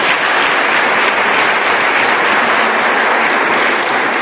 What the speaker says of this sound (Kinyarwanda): Umukomera amashyi, umukomera amashyi.